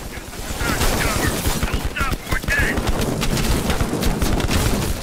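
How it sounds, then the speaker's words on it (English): Dense battlefield gunfire in Call of Duty Black Ops Cold War, with tanks and heavy machine guns firing in a continuous loud barrage of rapid cracks and booms, with voices speaking beneath it. "We're just being mowed down by tanks, heavy MG fire."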